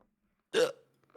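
A single sharp hiccup, close and fairly loud, with a faint voice sound trailing shortly after during a casual gaming livestream.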